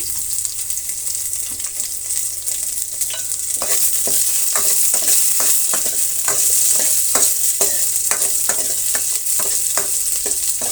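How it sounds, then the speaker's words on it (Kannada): Sliced onions and curry leaves fry loudly in hot oil, a dense continuous sizzle close by, with repeated scraping clicks of stirring throughout that grow busier after the first few seconds. "ಉದ್ದಕ್ಕೆ ಕಟ್ ಮಾಡಿಕೊಂಡಂತಹ ಈರುಳ್ಳಿ 2 ಮತ್ತು ಸ್ವಲ್ಪ ಕರಿಬೇವಿನ ಸೊಪ್ಪನ್ನು ಸೇರಿಸ್ತಾ ಇದ್ದೀನಿ. ಇಷ್ಟೂ ಫ್ರೈ ಆಗಲಿ."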